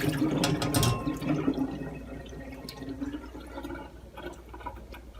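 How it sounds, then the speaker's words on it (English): A tap runs water while sausage casings are rinsed over a small bowl, a steady close splashing stream that is louder at first and gradually softens, with no talking. "Rinse them off first, but then we'll also open them and rinse them out that way."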